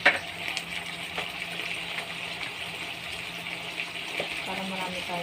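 Butter frying in a pan with steady stirring, a continuous broadband sizzle with occasional scrapes and clinks of a utensil against the pan, fairly close and steady throughout.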